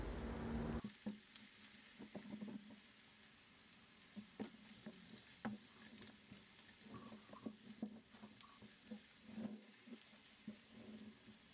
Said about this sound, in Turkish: karıştırarak kavurma işlemine devam edelim